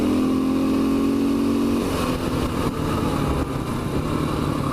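A motorcycle engine drones steadily nearby while riding across Huff Mountain, its pitch shifting partway through as it revs and changes speed, with wind rushing past.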